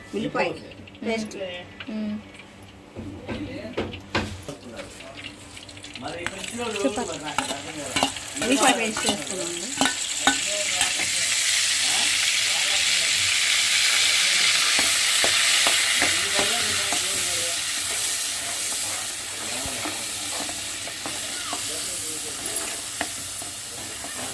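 Onion paste frying and stirred in a pan for mutton curry, with a spoon scraping and stirring early on, then a steady broad sizzle building and holding loud; a person talks over the first half.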